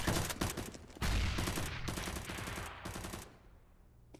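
Rapid gunfire in Counter-Strike, bursts of automatic shots crackling in quick succession, loud and close at first, then thinning out and fading near the end.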